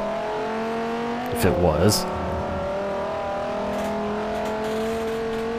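A large 10-cylinder race car engine in Forza Motorsport 4 revs up sharply for about a second over steady engine drone, with someone talking over it.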